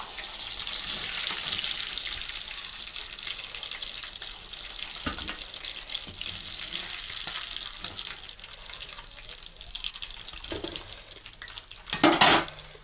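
Chicken legs frying in hot oil, a steady hiss and sizzle with occasional clinks of a utensil against the pan, growing louder near the end.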